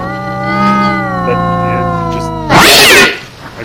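A pet cat named Maz gives a long, drawn-out meow close by, ending in a sharp burst that sounds like a sneeze or hiss.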